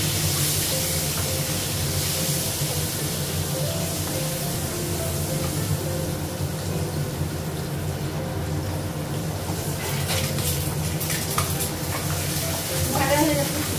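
Vegetables tossed with turmeric fry in a pan, giving a steady, close sizzle with stirring that runs unbroken for the whole stretch.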